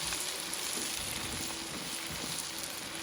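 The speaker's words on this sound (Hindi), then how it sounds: "इनको 2 से 3 मिनट तक भूनेंगे" Peas frying with tomato, ginger and garlic in a pan, a faint, steady hiss with a soft rain-like crackle throughout.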